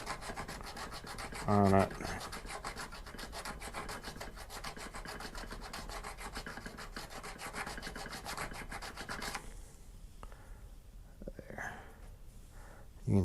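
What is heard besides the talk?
filing a ring with a file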